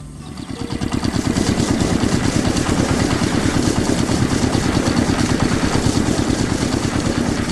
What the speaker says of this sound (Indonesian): Suara mesin pun mengisi udara, membuat suasana semakin menarik.